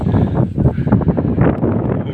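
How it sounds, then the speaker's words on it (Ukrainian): Gusty wind buffets the microphone outdoors during soybean sowing with a seeder, a loud, low rumbling roar that fluctuates throughout. "От Вітер на вулиці буде задувати"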